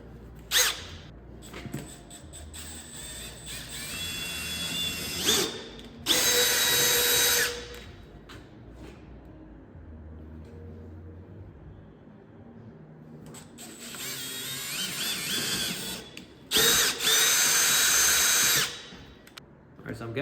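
A power drill with a 5/16 bit bores through the holes of an AJK Offroad slash guard kit on a Polaris RZR Pro XP Turbo, two loud whining bursts of a few seconds each separated by quieter shop noise.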